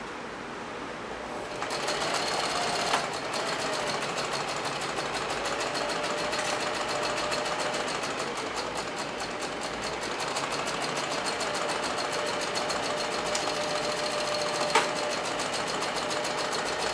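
A sewing machine stitches cloth in one long, steady run of fast, even needle chatter at close range, starting after a brief quiet moment.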